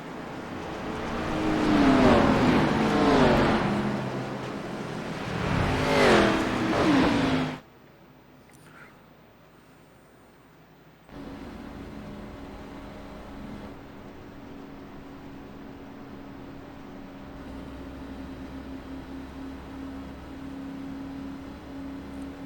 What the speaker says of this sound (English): our leader is clutching it down the backstretch. Gets a little bit of speed, throws that clutch in, and just coasts her around the track